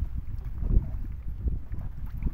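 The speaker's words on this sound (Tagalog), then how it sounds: "Grabe, lumakas yung hangin." Strong, strengthening wind buffets the microphone with a steady low rumble and gusty surges, no voices, sounding like open water on a blustery day during airgun fish hunting.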